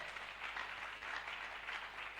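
A church congregation applauds, a steady, distant wash of clapping that continues evenly without pause.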